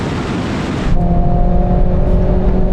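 An Alfa Romeo Stelvio QV accelerates hard in a drag race. Loud engine roar rises sharply after a brief lull and holds steady and close.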